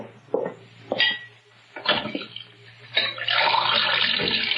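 In a radio drama kitchen, someone fetches a glass of water: a few clinks and knocks of glass, then a steady tap stream running at the end, close and moderately loud, with no talking.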